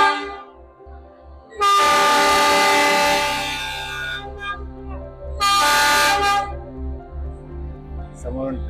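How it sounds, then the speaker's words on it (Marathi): Matheran toy train on the hill-station line from Neral sounds its horn as it approaches: a long, loud blast, then a shorter second one, over a low rhythmic engine chug. "आता माझ्या समोर ट्रेन येईल."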